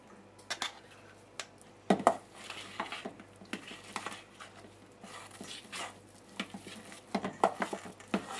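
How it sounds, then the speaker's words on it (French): Crumbled tuna being mixed with Saint-Moret cream cheese in a bowl, with an irregular series of soft taps and clinks of a utensil against the bowl over a low steady hum, with no talking. "On mélange bien."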